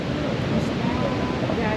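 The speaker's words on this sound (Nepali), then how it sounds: "खोला आवाज आइरहेको" A mountain stream rushes steadily on an uphill trail, a dense broadband wash of water filling the whole stretch without pause.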